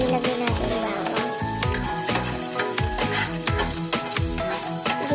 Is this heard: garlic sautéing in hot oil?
yes